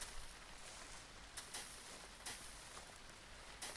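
Light rain sprinkles faintly, a soft, steady hiss with a few scattered drops tapping nearby, quiet and without voices.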